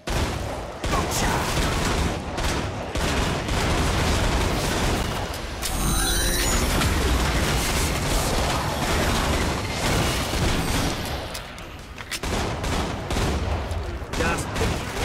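Gunfire in the video game Killing Floor, with dense continuous shooting and loud bursts throughout, and a sharp metallic ricochet-like sweep midway, no talk heard.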